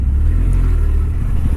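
A Honda Hornet 125 motorcycle engine runs loud and close while riding, a steady low-pitched drone with slight changes in revs and no talk.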